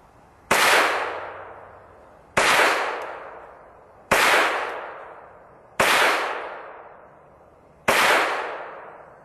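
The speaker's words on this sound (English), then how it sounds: "First 5 shots are the standard velocity" Five sharp rifle shots from CCI Quiet .22 standard velocity rounds, evenly spaced about two seconds apart, each a crisp crack with a short decaying tail, loud and alone with no talking.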